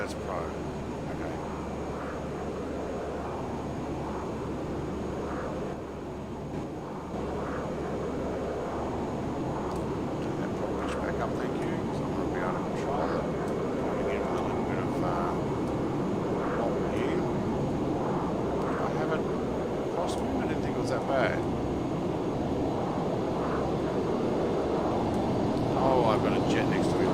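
A airliner landing at Dubai in a flight simulator game, its engine drone and airflow a steady, fairly loud bed throughout, with faint cockpit clicks scattered over it and no talk heard.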